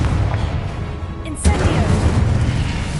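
A Confringo fire spell from Hogwarts Legacy blasts once with a sudden deep boom partway through, set against a dense, steady roar of game effects and background sound.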